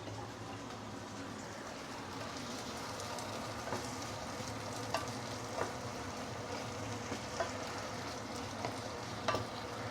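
Vegetables sauteing in hot oil for a sourish Sabah seafood soup, a steady soft sizzle with faint scattered clicks of stirring throughout.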